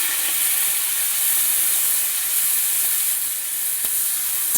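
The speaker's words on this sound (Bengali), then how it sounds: "পেঁয়াজটা ফোড়নের সাথে একটু ভেজে নেব" Onion fries with bay leaf, dried chili, cardamom and cumin in hot oil, giving a steady broad sizzling hiss close by with a couple of faint clicks.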